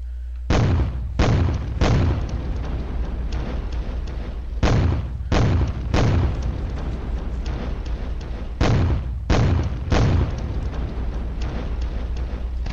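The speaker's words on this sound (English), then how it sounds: "The 80mm mortars hit the enemy Milan section again." 80mm mortar barrage striking an enemy Milan section in a wargame video game: heavy booming impacts arriving in tight clusters of two or three, repeating in salvos over a steady rumbling battle background, loud and close.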